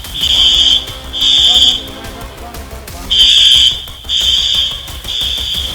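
Earthquake alarm in a building cracked by a tremor, beeping loudly in four long repeated bursts, a steady electronic siren tone sounding alone over low background rumble.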